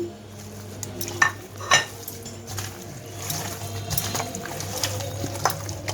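Raw desi chicken is mixed by hand with grated onion, garlic, ginger and bay leaf in a bowl, a close sequence of wet squelching and scraping sounds with a few clinks of the dish over a low steady hum.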